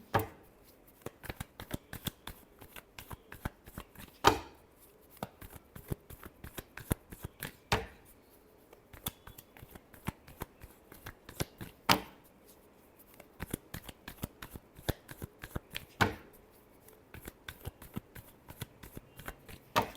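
Tarot cards being shuffled by hand during a Scorpio love reading, a long run of rapid crisp riffling snaps and flicks with a few sharper slaps, close and steady with no talk.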